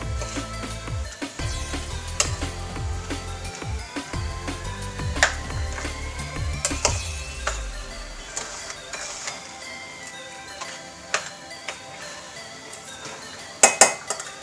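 A spoon scrapes and clinks against a pan while vegetable momo stuffing is stirred, steady metallic clatter with sizzling underneath early on, thinning out toward the end, no talking.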